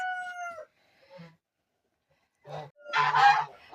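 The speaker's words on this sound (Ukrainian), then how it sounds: "я так люблю гуси, вони купаються там в ванниці" Domestic geese honk in a few short bursts, with a brief nasal call at the start and a louder cluster of overlapping honks toward the end, fairly close.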